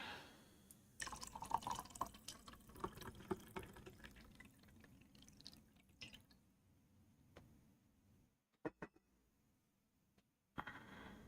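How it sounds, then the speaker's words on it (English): A victory beverage is poured at a desk, giving off faint trickling, dripping liquid sounds during the first few seconds, then brief isolated clinks and taps over a quiet room. "let's pour a beverage"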